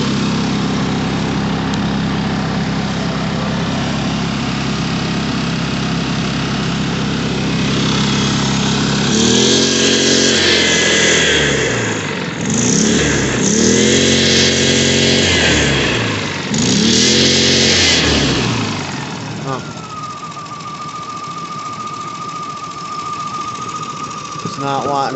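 A Kipor KGE 2000Ti inverter generator runs nearby with a loud, steady engine drone, rising into a few cycling throttle surges midway before easing back, and a high whine appears near the end.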